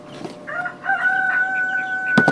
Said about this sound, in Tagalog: Ay, commercial naman to si Tandang eh